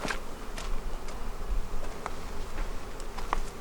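A steady honeybee buzzing from a hive hums throughout, dense and continuous close by, with a few faint ticks and taps mixed in.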